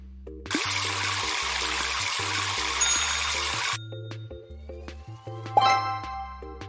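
A shower runs in a children's pet-cleaning cartoon, a hiss of water lasting a few seconds over bouncy background music, followed by a brief splashy sparkle.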